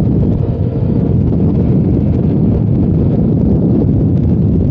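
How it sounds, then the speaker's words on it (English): Heavy wind roars and buffets the microphone while a Honda Ruckus scooter is ridden along curving roads. A loud, constant rumbling blast runs throughout with no voices. "Especially with this wind."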